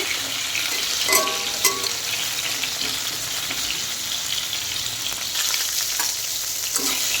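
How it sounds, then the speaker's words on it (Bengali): Pieces of pointed gourd (potol) fry in a pan with a loud, continuous close-up sizzle, broken by a few crackling pops and spatula stirs; no one speaks. "দেখেন পটলগুলো কিন্তু হাফ ভাজা হয়ে গেছে, আর একটুখানি ভাজতে হবে।"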